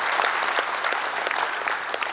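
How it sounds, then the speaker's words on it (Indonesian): Steady applause from a seated audience at a formal inauguration ceremony for the Kadin Indonesia 2024-2025 board, dense even clapping filling the hall throughout, with no voices on top. "tepuk tangan buat beliau"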